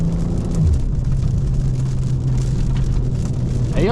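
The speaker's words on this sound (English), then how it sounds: "Do y'all like the sound of rain hitting the car? Or like hitting your windshield?" Steady heavy rain drumming on the roof and windshield of a BMW M340i, a dense continuous patter with a low engine hum underneath.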